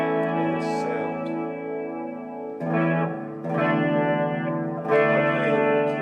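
Clean electric guitar (GROTE LPYS-006 solid body) through a clean amp plays sustained chords and short phrases, smooth and ringing with reverb and a gentle wavering vibrato.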